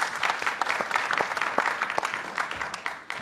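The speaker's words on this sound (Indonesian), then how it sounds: "Kalian harus tepuk tangan buat William" A live stand-up comedy audience applauds for comedian William, dense steady clapping from a crowd that tapers off slightly at the end.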